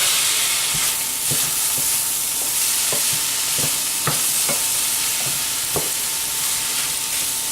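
Sweet corn and cherry tomatoes being stirred into an eggplant ratatouille, a steady sizzle with repeated scraping strokes of the spoon across the pan, close and fairly loud, no talking.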